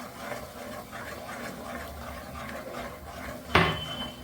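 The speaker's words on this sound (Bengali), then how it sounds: "এক সাইড থেকে ঢেলে দেব, আর অনবরত নাড়াচাড়া করতে হবে" Semolina is poured into hot milk in a pot and stirred, giving a steady soft scraping and bubbling texture with one sharp metallic clank near the end.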